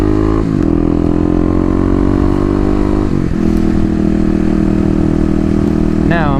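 A dual sport motorcycle is ridden, its engine droning loudly and steadily with gear shifts and rises in pitch as it accelerates, heard close from the rider's position under strong wind noise.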